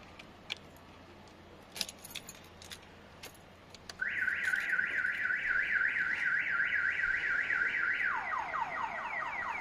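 Aftermarket central locking alarm on a Nissan Magnite XE: a few faint key clicks and jingles, then a loud, repeating warbling siren cycle that shifts to a different tone pattern near the end.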